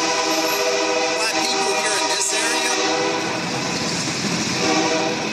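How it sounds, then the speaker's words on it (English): A train rumbles past in the background on King Street, South Carolina, its sustained roar and horn-like tones steady and loud throughout while a person speaks over it. "You can hear the train in the background."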